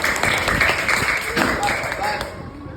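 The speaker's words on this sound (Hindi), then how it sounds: "वेरी गुड, ताली बजाओ उसके लिए।" Schoolchildren clap for a classmate in a classroom, a dense burst of many small hands patting together steadily for a few seconds, fairly loud and close, with some scattered taps mixed in.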